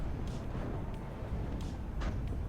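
A tank cannon fires in the WARNO real-time strategy game, with a few muffled booms set in dense, continuous battlefield rumble.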